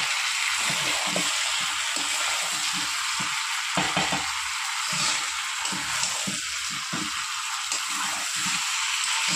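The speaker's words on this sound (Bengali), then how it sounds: "ভালো করে আলুটা আর মাংস একসাথে আমি কষিয়ে নেব।" Mutton and large potato chunks are stir-fried together in a pan, with a loud, steady sizzle broken by rhythmic stirring strokes that repeat every half-second or so, close up and without speech.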